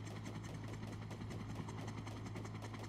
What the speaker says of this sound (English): Turn around and look at my helicopter really quick.